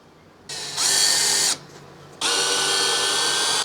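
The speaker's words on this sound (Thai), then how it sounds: "ปกติผมก็จะเจาะนำโดยใช้ดอกสว่านเจาะปูนเบอร์4หรือ5ก่อนนะครับ" Power drill boring a pilot hole into a concrete wall with a No. 4 or 5 masonry bit: two loud sustained bursts of whining, grinding drilling, about a second each, separated by a short pause.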